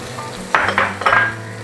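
Garlic, ginger, green chilli and shallots dropped into hot oil for a beef dish, giving bursts of sizzling with stirring clatter, loud and close, with a few distinct surges and no talk.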